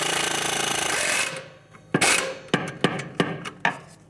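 Loosening 14mm bolts on a 1997-2001 Lexus ES300 during a rear strut job: a sustained loud power-tool whir ends, then a series of sharp rattling impact bursts follow at roughly half-second intervals, close by.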